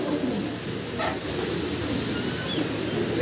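Soft, low cooing of a pair of Damascene (Dhamasin) pigeons repeats under a steady background hiss, with a few faint chirps, close by and quiet.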